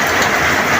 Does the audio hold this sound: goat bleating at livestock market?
no